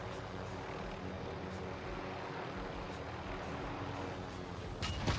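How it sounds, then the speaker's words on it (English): A plane's engine roars steadily as the aircraft is driven along the ground, a dense, constant drone that fills the whole clip and swells slightly louder toward the end. "He's literally driving a plane."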